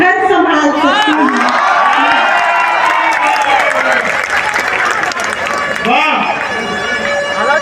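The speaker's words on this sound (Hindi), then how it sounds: "इस आपके बुजुर्ग भी ताली बजा रहे हैं" An audience at an outdoor poetry gathering on a fairground cheers and applauds loudly, a thick, sustained mix of clapping, whistles and shouting voices that swells and lingers, with excited calls rising above it.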